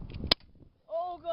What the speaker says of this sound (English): Now I'm gonna shoot the bottom one.